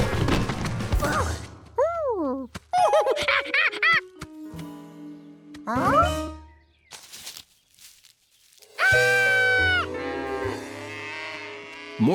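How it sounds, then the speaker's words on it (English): Cartoon cows moo repeatedly in a field, with loud, drawn-out bellows and comic sound effects such as thuds, whacks and footsteps between them, separated by short pauses. "More cows were coming."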